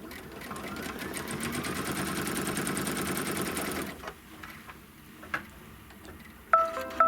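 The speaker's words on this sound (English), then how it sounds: "and stitch the seam line" A sewing machine runs steadily stitching a seam line through quilt block fabric backed with SF101 interfacing, a close, continuous mechanical whir that stops about halfway, followed by a few faint clicks and handling noises.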